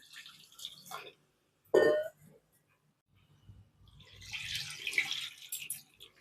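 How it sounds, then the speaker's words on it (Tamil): Water poured into a mixer jar to rinse it while making a tamarind fish curry, a brief splash followed later by a longer stretch of running, sloshing water, with quiet talk in the background. "மிக்சி சார அலம்பி கொஞ்சம் தண்ணி ஊற்றிக்கலாம்"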